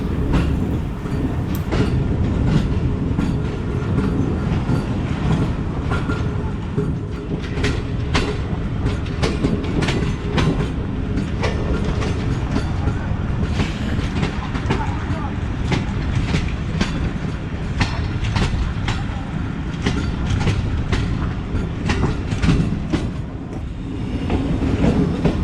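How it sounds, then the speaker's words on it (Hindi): Tezgam express rolling on rails near Chichawatni, a continuous loud rumble with rhythmic clickety-clack of wheels over joints throughout, heard from on board without speech. "चिचावतनी की लूप लाइन से निकल के ट्रेन बल खाती हुई वापस मेन लाइन के ऊपर ज्वाइन कर रही है"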